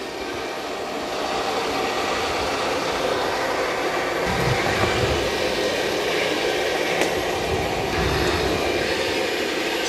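An ECOVACS DEEBOT T20 Omni robot vacuum mops and vacuums with a steady, fairly loud whirring drone that runs unbroken throughout, with no voices.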